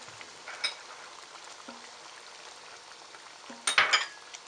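Pumpkin and okra cook for pinakbet in a pan with a quiet, steady sizzle. A few soft clinks and stirring scrapes break through, and a louder clatter comes near the end.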